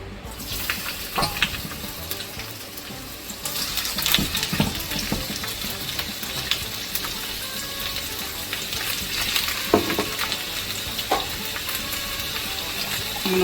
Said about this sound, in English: to prepare my shrimp, I'm going to go in the pan with a little bit of oil